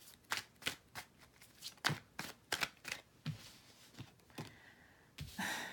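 Tarot cards being shuffled by hand, a run of crisp riffling snaps and slaps in an irregular rhythm, close and fairly quiet, with no voice.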